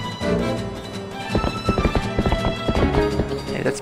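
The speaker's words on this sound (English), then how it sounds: "Hey, that's my horse." Rapid clip-clopping hoofbeats of a galloping horse in The Legend of Zelda: Twilight Princess HD, with a short whinny at the start, a game effect, loud and close.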